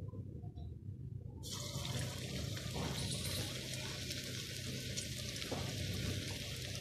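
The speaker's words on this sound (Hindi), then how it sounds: "देखें हमारा तेल अब गर्म हो गया है, अब हम अपने पसंदों को फ्राई करेंगे।" Pasanday, thin beef slices, frying in hot oil in a home kitchen, a steady loud sizzle and crackle that swells after the first second and holds close and constant.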